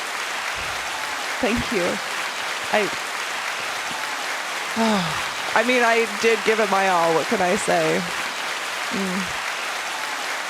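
A soundboard button on a podcast plays a canned applause and cheer effect, a constant crackling wash of clapping running beneath a speaker talking over it.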